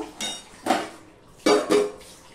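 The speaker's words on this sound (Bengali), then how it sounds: "এবার আমি এটা আবারও ঢাকা দিয়ে দেব ফোটার জন্য।" Lid set onto a cooking pot of sweet pumpkin curry, a few sharp metallic clanks and rattles as it settles, close and distinct, no speech.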